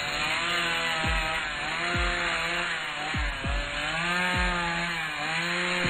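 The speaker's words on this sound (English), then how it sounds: "Chainsaw." A chainsaw in the surgery video game Amateur Surgeon buzzes steadily and loudly throughout, with repeated dips and revving surges as it cuts.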